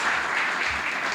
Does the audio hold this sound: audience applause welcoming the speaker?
yes